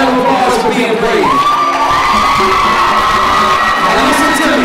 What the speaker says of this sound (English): Can you give them a round of applause for being brave?